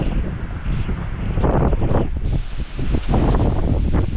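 Strong gusty storm wind roars continuously on a river fishing trip, buffeting the microphone with rustling and rushing surges that swell and ease over a few seconds, with no talking.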